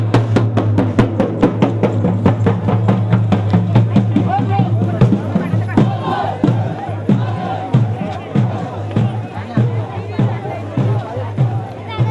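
A crowd packs the Shirgao temple fair, a dense, continuous babble of many voices with shouts, footsteps and sharp repeated percussive hits cutting through a steady low drone.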